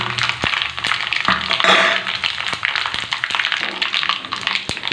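Chilies frying in hot oil in a tempering pan for a chutney, a dense crackling sizzle with sharp pops and clinks of a spoon against the pan, close and loud throughout.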